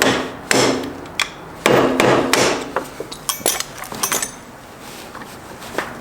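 A hammer taps on the clutch of a 1996 Honda Fourtrax 4x4, sharp metallic knocks in irregular bursts, some single and some in quick runs, close and loud with brief ringing between strikes.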